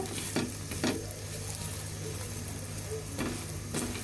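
A tomato paratha fries in oil on a pan, giving a steady low sizzle broken by a few sharp scraping taps, with a constant hum underneath.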